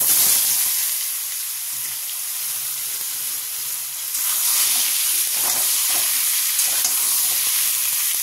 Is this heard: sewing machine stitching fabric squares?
no